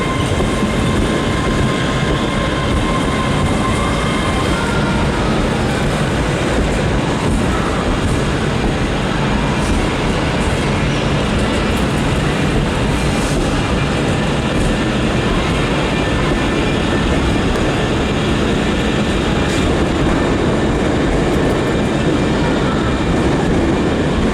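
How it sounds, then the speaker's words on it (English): Steady low rumble and rolling hum of a six-coach ScotRail Hitachi Class 385 electric train moving along the rails, constant and unbroken throughout, with faint rattles and clicks. "here we are on one of ScotRail's new Hitachi 385 AMUs"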